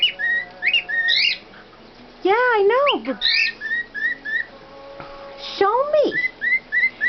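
Meeko, a pet bird, whistles in short bright rising and falling phrases and squawks at close range, alternating with someone talking to it.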